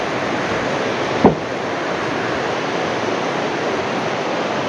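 Kundal Shahi waterfall in Kutton Valley, Azad Kashmir, a constant loud roar of rushing water filling the scene without a break, with a single short knock near the start and no talking.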